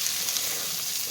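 Potatoes fry and are stirred in a pot for bacon corn chowder, a continuous bright sizzle heard close and fairly loud.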